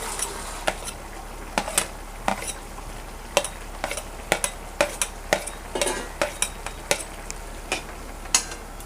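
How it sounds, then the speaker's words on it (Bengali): Cashews and raisins frying in a pan for hilsa pulao: a steady soft sizzle under repeated scraping and clinking of a spatula against the pan in an irregular stirring rhythm, with no voices. "কাজু কিশমিশটা দিয়ে দিচ্ছি এর মধ্যে।"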